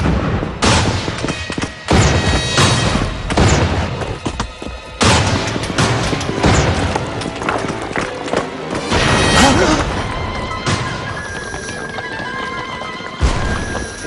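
Cartoon horses whinnying and hooves clattering amid battle noise with booms and gunfire, loud and busy, with voices talking over the tumult.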